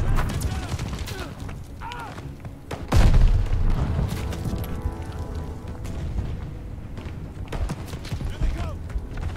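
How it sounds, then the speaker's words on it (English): Grenades exploding in the Call of Duty: Vanguard campaign: a heavy boom about a third of the way in, set against ongoing battle noise and rumble, with a person talking over the game. "Some grenades or something."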